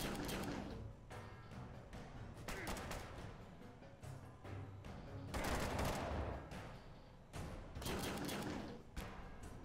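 Rapid bursts of gunfire from a Fallout Shelter game fight, volleys of shots rattling in clusters with short pauses between, fairly quiet in the mix.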